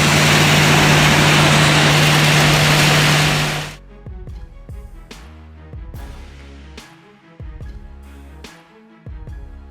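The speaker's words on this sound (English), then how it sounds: "Kind of wild seeing a hammer mill chew through scrap like popcorn" A hammer mill shreds scrap metal at about 2 tons per hour on a 75-horsepower drive, giving a loud, dense grinding roar with a steady hum for nearly four seconds before it cuts off to quieter background sound.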